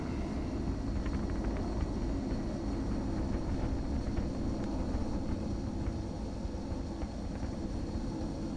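A jet aircraft in the video game XCOM Enemy Within gives a steady, loud, unbroken engine roar with a deep rumbling low end and an airy hiss that holds even across the whole stretch.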